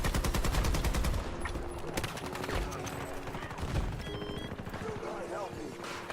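Battlefield 2042 gameplay brings rapid automatic gunfire in dense bursts with scattered explosions and impacts, loud and continuous, with some talk in the background.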